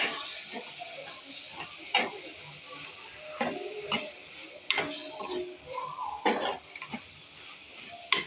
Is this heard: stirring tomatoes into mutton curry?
yes